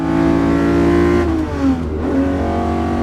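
A Ferrari 250 GT engine holds a steady, loud droning note, then dips and swells as the revs shift, close and with no voices.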